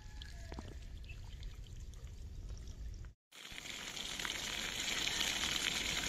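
Farm water pumped by an electric motor through a pipe pours out in a steady, rushing stream. After a brief gap it returns louder and fuller.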